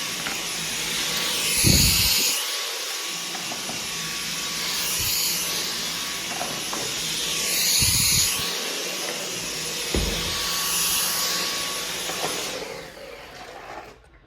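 A Dyson cordless vacuum cleaner runs on carpet with a continuous close-up whine and roar. It swells and dips in a slow rhythm as it is pushed back and forth, with occasional thumps.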